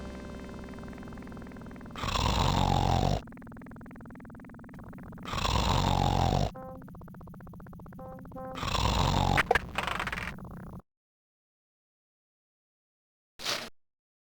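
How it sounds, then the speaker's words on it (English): A man snores in The Dagger of Amon Ra video game with three long, loud rasping snores separated by quieter droning music, followed by silence and a brief final burst. "He snores in response."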